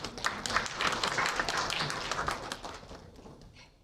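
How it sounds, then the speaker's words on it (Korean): An audience claps at a university presentation on innovation support results, a dense burst of many hands that rolls on for a few seconds and then tapers away. "큰 박수 부탁드립니다."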